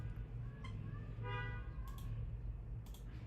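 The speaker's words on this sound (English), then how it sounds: "Who's honking at me?" A car horn honks once, short and fairly faint, over a steady low background hum.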